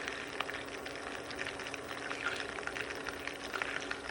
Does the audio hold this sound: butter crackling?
yes